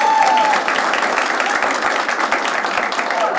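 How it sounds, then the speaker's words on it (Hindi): A studio audience on a comedy game show claps loudly and steadily for the panel, a dense, even wash of applause throughout. "एक बार जोरदार ताली हो जाए हमारे पैनल के लिए"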